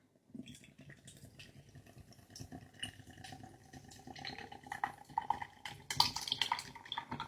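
IPA ale glugs and fizzes as it is poured from a can into a glass, a close, fairly quiet liquid splashing that builds, with crackling foam toward the end.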